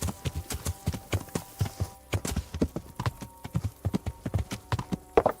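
Rhythmic clip-clop of horse hooves trotting at a steady pace in the video game Kingdom Come: Deliverance, close and moderately quiet, with no speech.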